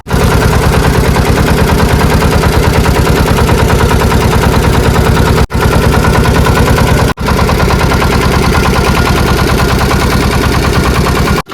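A boat engine on the Matla River in the Sundarbans runs loud and steady with a fast rhythmic chugging, broken by two brief cutouts before it picks up again, close by throughout.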